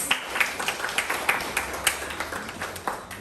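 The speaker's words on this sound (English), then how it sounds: "let's give him a round of applause" An audience applauds to welcome Honorable Ron Redhead at a community youth event, with a modest crowd clapping in uneven, steady rhythm.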